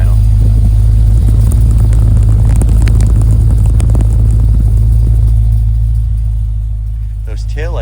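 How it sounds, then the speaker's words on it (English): Deep, steady low burble from the V8 exhaust of a 1994 MG RV8 5-speed manual roadster idling nearby, an even rumble with faint clicks over it, easing slightly near the end. "let's have a listen to the exhaust at idle"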